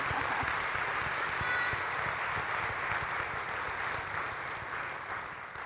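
Sustained audience applause at the final night of an international opera festival, a dense, even wash of clapping from a large crowd that holds steady and then tapers slightly toward the end, with no talk over it.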